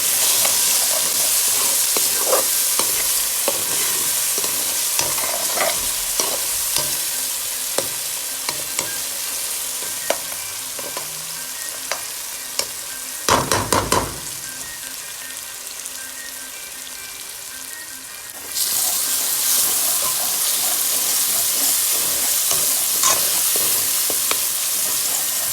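Spices fry in a pan for spaghetti with grilled chicken, a steady close sizzle with crackles and pops, a burst of stirring scrapes midway, then the hiss surges louder and continues without talk.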